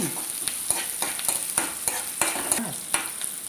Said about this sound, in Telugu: పచ్చిమిర్చి వేసుకోవాలి ఆనియన్ కొంచెం ఫ్రై చేసుకొని